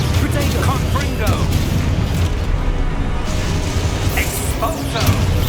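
Booming fire-blast curse explosions from Hogwarts Legacy erupt amid dense, continuous spell combat, loud and close, with voices talking over the fight.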